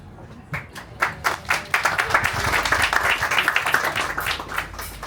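Audience clapping at a book presentation of «A Cidade e a Revolução» at the Fólio 2025 festival, a dense round of applause that swells quickly and holds steady for several seconds, indoors and fairly close.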